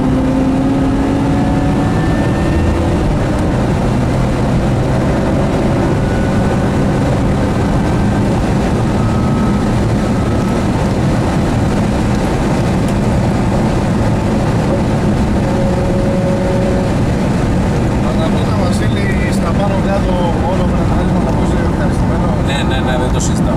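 A BMW car pulls away under acceleration, its engine and road roar loud, steady and broadband from close by, while people talk over it.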